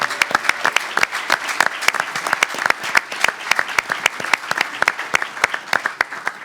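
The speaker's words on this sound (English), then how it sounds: "Let's give them all a round of applause." Audience applause at a press conference announcing a Seattle Sounders FC and Tacoma Rainiers move, a steady burst of many hands clapping with sharp individual claps standing out, fairly close, with no talk over it.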